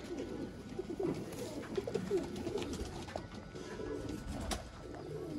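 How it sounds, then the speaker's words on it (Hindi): Black-faced, red-spotted Sialkoti pigeons coo in low, soft repeated phrases close by, with faint chirps and ambient rustling in the background. "वो कबूतर ने जेह्ड़े हुण बहुत कम लभदे ने लाल दाग वाले कबूतर"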